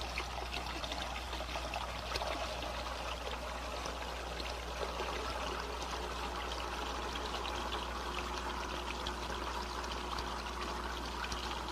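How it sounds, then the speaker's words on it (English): Water bleeding from a manifold streams steadily out of an outlet, a continuous rushing trickle with no pauses and no voices. "I'll reduce the volume flow at successive sections by bleeding water from the manifold."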